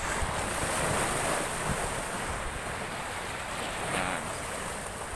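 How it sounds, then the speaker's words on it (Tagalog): Waves breaking and washing over a rocky shoreline, a constant rushing roar mixed with wind noise on the microphone. "Ayan, dagat na mismo. Ito sa may mga batuhan."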